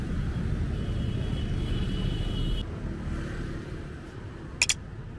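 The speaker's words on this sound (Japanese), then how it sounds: "ここの T 字路は相変わらずの交通量だけど" Busy road traffic at a T-junction in Ho Chi Minh City, a continuous low rumble of passing vehicles with engines droning, easing slightly midway and then a couple of short sharp clicks.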